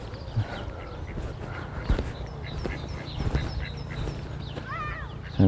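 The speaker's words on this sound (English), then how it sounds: "Got some ducks over here as well" Ducks by a pond, with geese nearby, quack faintly from a distance. Scattered calls come over a soft outdoor background, with a clearer burst of quacking near the end.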